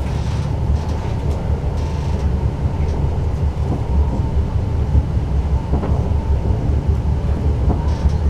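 Onboard a London Overground train between White Hart Lane and Meridian Water, a loud continuous low rumble of the carriage in motion, with steady wheel and track noise and occasional rhythmic clicks, no voices.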